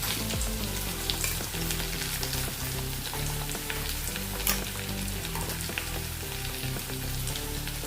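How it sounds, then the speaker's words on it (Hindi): A steady, dense sizzle of ground spice paste frying in a pan over low heat, with light crackles and occasional stirring scrapes, close and continuous. "अभी इसको हम कम गैस के ऊपर भूनेंगे मसाले को"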